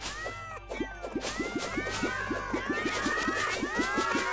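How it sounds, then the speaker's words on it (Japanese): A cat-themed magic sword swung again and again in Terraria, each swing giving a bright meow, so the meows run in a quick steady rhythm with a game soundtrack under them. "にゃんにゃんにゃんにゃん鳴いてます。"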